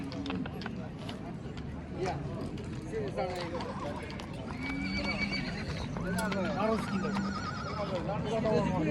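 Horses whinny repeatedly amid a busy outdoor livestock market crowd, with a male foal among them, hooves clopping and people talking throughout.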